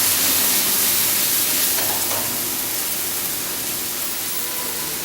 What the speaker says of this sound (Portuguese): jogar um cubinho de manteiga e saltear os cogumelos